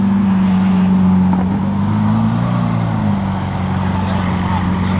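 A Lamborghini supercar drives past with a loud, sustained engine drone that rises in pitch mid-way, then settles back while the roar continues steadily.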